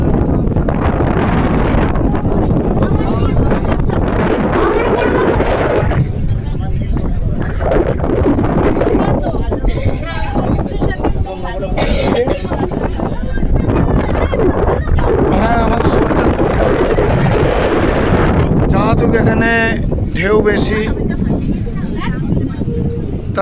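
Wind buffets the microphone steadily while water churns and a rocking boat moves underneath at a confluence of five rivers in the Sundarbans, with people talking throughout.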